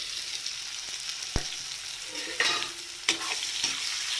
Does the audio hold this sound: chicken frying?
yes